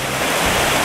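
A small waterfall in a trout brook in Georgia rushes in a dense, steady wash of close, loud water noise.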